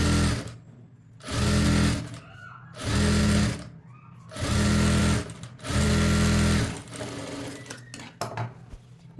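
Sewing machine topstitching a hemming strip onto a blouse in four short, loud bursts of rapid needle whirring separated by pauses, ending with softer handling clicks.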